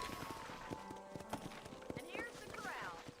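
Horses' hooves clip-clop in a ranch corral in the Red Dead Redemption video game, with irregular thuds and a brief whinny over background game sound while a person talks.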